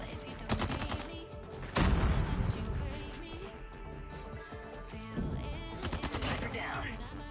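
Striker SMG gunfire in Call of Duty Mobile, repeated rapid automatic bursts with a heavy blast near the start and steady crackling fire throughout, mixed with game sounds.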